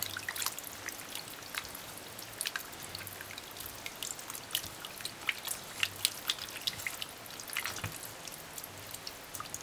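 Water splashes and trickles as turkey necks are rinsed with white vinegar in a kitchen, a faint continuous dripping and sloshing with scattered small splashes, nearby and without speech.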